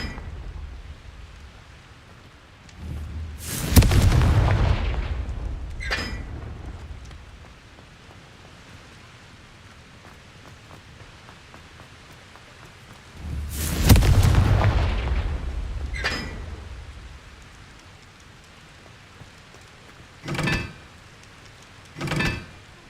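Confringo spell explosions in Hogwarts Legacy, two loud booming blasts about ten seconds apart, each with a rumbling tail, followed by a couple of shorter crackling bursts near the end.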